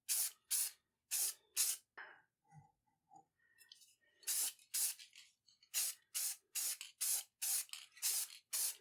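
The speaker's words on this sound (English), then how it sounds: "Time for a second coat." Primer sprayed onto a part in short, loud hissing bursts from an aerosol can, with a quiet pause of small clicks and handling noises partway through.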